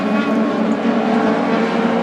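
INEX Legends race cars run four wide around a speedway, their engines merging into one loud, continuous roar that stays dense and steady throughout.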